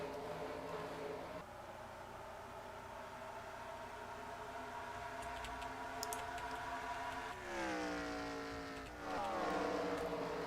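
Race car engines in the Cubecar racing game drone as several steady tones, shifting pitch as the cars accelerate, and stay fairly faint throughout.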